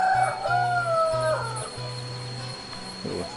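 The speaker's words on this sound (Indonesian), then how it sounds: "Itu ya burung juga ya" On a rural hillside by rice paddies, a rooster crows, with a few faint bird calls and a brief cluck at the end, while a steady mechanical hum runs underneath.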